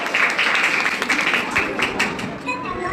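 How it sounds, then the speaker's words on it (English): At a school fancy dress competition, an audience claps in a dense, steady burst of applause that holds at the same level for a few seconds, with a little chatter underneath. "Please give big round of applause for a peacock."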